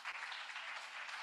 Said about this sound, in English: I think we should give this couple another round of applause.